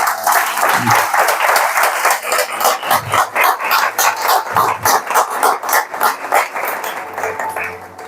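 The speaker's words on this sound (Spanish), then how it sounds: "dele un aplauso al Señor" A church congregation claps steadily throughout, loud and dense, with a few low thuds or shouts mixed in; no speech over it.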